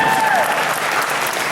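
An audience at the Power Morphicon fan convention applauds, a dense, loud wash of clapping that fills the whole moment, with voices calling out over it.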